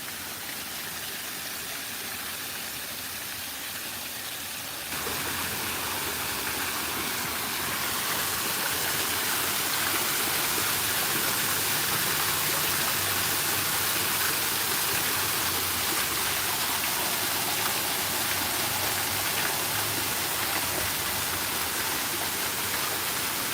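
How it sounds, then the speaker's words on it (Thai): An artificial waterfall at Sathira-Dhammasathan in Bangkok pours in a steady, full rushing roar that grows louder after a few seconds and then holds constant and close. "นี่จะเป็นน้ำตกจำลองครับ"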